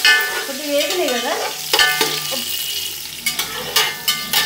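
Vegetables for veg fried rice are stirred in a hot pan, with scraping of the spoon and a light sizzle close by. Stirring strokes come in uneven bursts, and no one talks.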